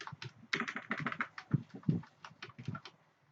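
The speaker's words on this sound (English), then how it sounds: "You can just type loop in JavaScript, hit enter" Quick, uneven clicking of computer keyboard keys as someone types a short search, close and fairly quiet, with a couple of heavier key presses and no talk.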